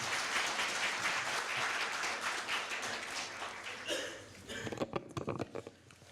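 An indoor audience at a Korea University law school evening event breaks into sustained applause that gradually thins out into a few scattered claps near the end, heard at moderate volume with a faint voice underneath.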